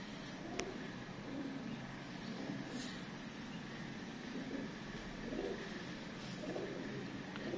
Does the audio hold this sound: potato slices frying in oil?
no